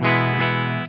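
An electric guitar through a modified Boss DS-1 distortion pedal holds one sustained, heavily distorted chord, loud and harmonically rich, before it fades abruptly.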